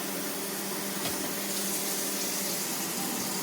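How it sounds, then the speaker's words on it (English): Water from a kitchen tap runs in a steady, loud broadband rush throughout, unbroken and alone, filling the space near the sink. "I'm going to turn the water on over here."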